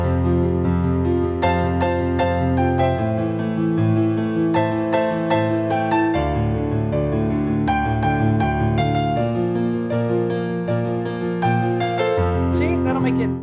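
Piano plays a song in a simplified arrangement, with only the top note of each octave in the melody. Steady chords and melody run loud and continuous, with no talking over them.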